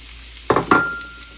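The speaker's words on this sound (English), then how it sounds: "I'm gonna saute these." Onion and peppers hit hot olive oil in a pan for a vegan walnut taco meat, giving two quick bursts of sizzling and stirring that fade into a faint fry, close by with no talking.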